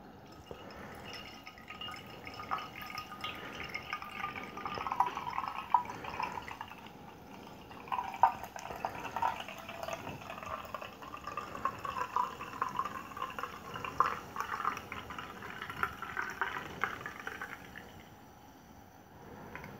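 Homemade beetroot turbo cider is poured from a bottle into a glass: a continuous soft splashing and fizzing fill lasting nearly twenty seconds, close and moderately quiet, with small drips and no talk.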